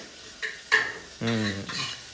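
Short bursts of tempering spices sizzling and crackling in hot oil, close by, with a few stirring scrapes in the pan.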